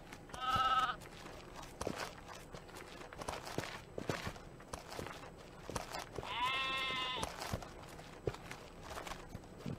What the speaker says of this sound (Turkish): koyunlar yürüyün